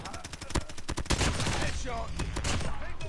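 Rapid bursts of assault rifle fire from Call of Duty Mobile crackle continuously, sharp repeated shots layered over dense game noise with a few short pauses between volleys.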